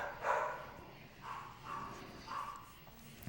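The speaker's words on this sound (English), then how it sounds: "The extremely loud barking in the background?" Muffled barking in a few evenly spaced bursts, distant and somewhat faint, set against a low background hum.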